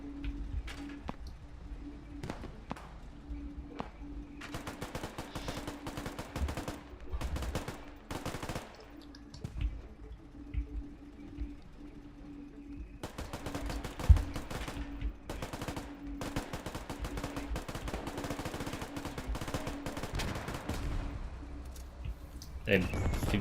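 Gunfire in the war game Foxhole: scattered bursts of automatic fire and single shots, some near and some distant, spaced through the stretch over a steady low hum, with someone talking at times.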